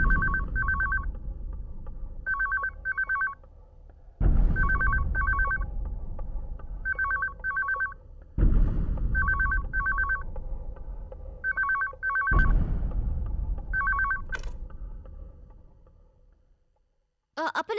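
A telephone rings in repeated double-burst bell patterns, loud and close, cycling through several rounds before falling silent.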